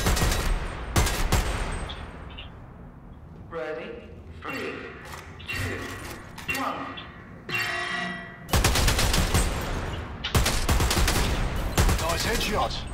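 Gunfire in the Dirty Bomb tutorial's shooting range, sharp shots in bursts and rapid strings at targets, with quieter stretches between where someone speaks German and faint game sounds carry on.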